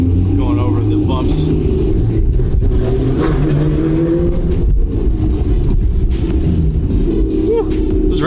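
A twin turbo Ferrari V12 rolls over bumps with a deep, steady engine rumble filling the cabin, low drone constant throughout while people talk over it.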